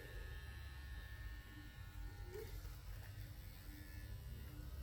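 An Acus C2 tattoo machine runs at 8 volts with a steady, fairly quiet electric buzz and hum that holds without a break, close by and with no talking over it.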